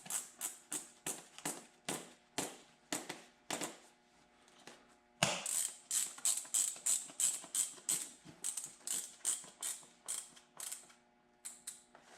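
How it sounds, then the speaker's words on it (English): Insulated winter boots tightened by wire cable lacing on cams, giving a quick series of close, crisp ratcheting clicks in irregular bursts with short pauses between, fairly quiet and alone. "instead of using laces or buckles, they use wire on cams to tighten up the boot"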